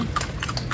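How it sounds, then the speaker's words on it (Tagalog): Horse hooves clip-clopping steadily on a city street while pulling a kalesa carriage in San Fernando, Pampanga, close and continuous over a low rumble of wheels and traffic. "Kaingay naman ang paa ng kabayo ay."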